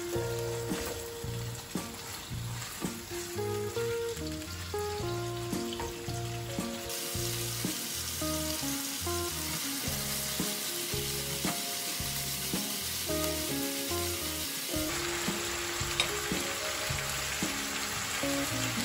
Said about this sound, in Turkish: 4 adet doğradığım kalça şişlerimi hafifçe kavurup kızartacağız